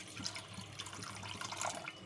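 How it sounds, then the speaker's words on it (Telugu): Water pours steadily into a pan of ghee-fried vermicelli for semiya payasam, making a soft, continuous splashing trickle that stays faint and unbroken throughout. "వాటర్ పోసుకోవాలండి."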